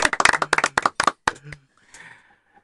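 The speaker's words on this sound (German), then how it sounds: "Ich glaube, wir müssen schon klatschen da drinnen" An audience in a German studio show claps in quick, uneven bursts of sharp, close claps for about a second and a half, then trails off into a faint murmur and near silence.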